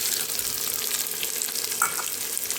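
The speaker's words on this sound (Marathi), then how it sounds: "तर अगोदर कांदे भाजून घेते." Large chopped onions frying in oil in a pan for a potato and pea curry, a steady, close, even sizzle with faint crackles throughout and no talking.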